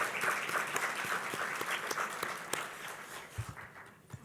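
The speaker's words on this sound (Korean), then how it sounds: "돌아온 권혁동 박수 한번 쳐주세요" An audience at a Korean New Year's opening ceremony lecture breaks into steady applause, a dense wash of clapping that fades over about four seconds, with a few scattered claps at the end.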